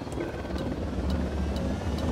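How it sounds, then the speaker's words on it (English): A helicopter's rotor in the video game Ghost Recon Wildlands thrums steadily and loudly, a continuous chopping drone with no voices. "Helicopter inbound."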